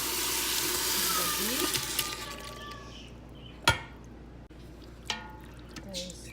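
Ground beef hits a pot of cooked onions in an Instant Pot, giving a loud hiss that fades over a few seconds, followed by a couple of sharp utensil knocks against the pot.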